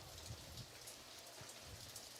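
Rain falls steadily at a baseball stadium during a Hall of Fame Classic game, a constant hiss of drops on surfaces, moderately loud and uninterrupted, with no voices over it.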